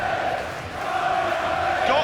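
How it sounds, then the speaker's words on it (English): Darts fans at the 2013 World Darts Championship semi-final, Taylor versus Barneveld, chanting and roaring in support of Barneveld, a sustained crowd chant that swells loudly throughout. "The crowd letting Phil know who they're supporting"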